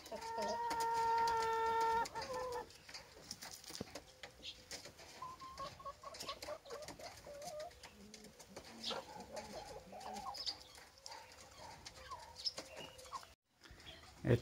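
Rooster and hens cluck around a rural poultry yard, with a guinea fowl nearby; a loud harmonic rooster-like call opens the clip, followed by scattered soft clucks and coos over a faint steady background.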